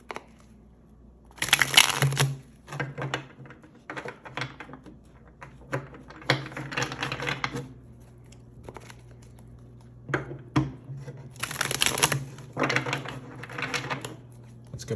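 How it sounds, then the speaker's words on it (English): Tarot cards being shuffled by hand up close, with repeated papery riffles and soft slaps in irregular bursts, moderately loud, separated by brief quiet gaps. "Let's get a couple more shuffles and then we'll see what's going on for April for you."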